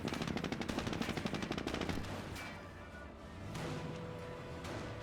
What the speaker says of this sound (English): Jeep does get a small burst there onto the Panzer Grenadier.